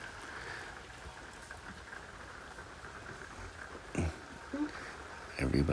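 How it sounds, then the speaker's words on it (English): Rain from a big storm patters on the roof of an RV at a campground, a soft, steady hiss of drops heard from inside, with a few louder rustles and brief bumps near the end. "Rain on the roof is so nice."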